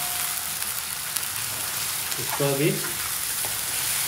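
Onion paste hits frying chicken in a pan with a steady, bright sizzle, hissing loudly throughout with a brief stirring scrape midway and a short spoken phrase.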